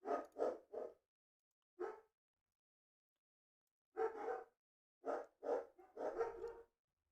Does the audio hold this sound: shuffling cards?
no